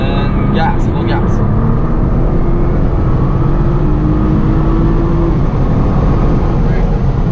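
A Nissan GT-R accelerates hard at full throttle on a circuit. A loud, sustained engine drone fills the cabin and climbs slowly while an instructor speaks over it.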